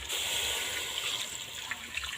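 Water poured into a pot of pork rib soup, a short, steady gushing splash of liquid close by, with no talking.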